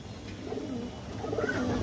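A pigeon with red eyes and a leg band coos softly nearby, a few low throaty calls rising and falling over faint background noise.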